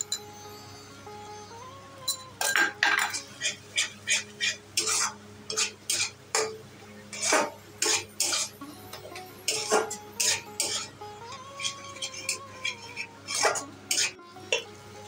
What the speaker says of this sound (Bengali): কাজু বাটা দিয়ে একটু কষিয়ে নিচ্ছি